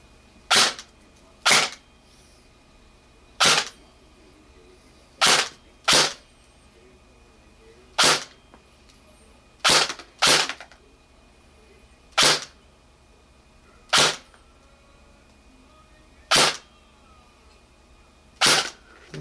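A G&G AK-47 airsoft rifle with aftermarket parts, a home-built MOSFET and a 7.4 V LiPo battery fires single sharp cracks one at a time, about a dozen spaced irregularly a second or two apart, with quiet between shots.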